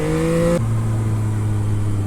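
Yamaha XSR 900 motorcycle engine revving loud and close, a high held rev that drops abruptly to a steady lower idle-like drone for the rest.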